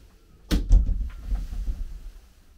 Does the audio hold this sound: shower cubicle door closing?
yes